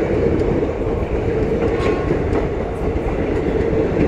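A train rumbles steadily past at close range with a continuous loud roar and rhythmic clickety-clack of wheels on rails, an Indian railway scene.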